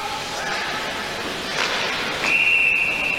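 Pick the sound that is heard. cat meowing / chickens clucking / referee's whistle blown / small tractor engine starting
referee's whistle blown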